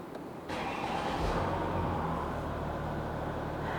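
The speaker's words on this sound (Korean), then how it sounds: "자, 우선 시동을 먼저 걸어보도록 할게요." A Mercedes-Benz S350L 4matic diesel engine starts with a brief crank, then settles into a quiet, steady low idle hum heard up close with the doors open.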